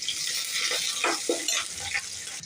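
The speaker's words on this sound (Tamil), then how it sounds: "இப்போ அதில் போடுறேன். ஆயிலில் போட்டு நல்லா வதக்கிடுவேன்." Onions frying in oil in a home kitchen pan, a steady sizzling hiss with occasional stirring scrapes, continuous and close.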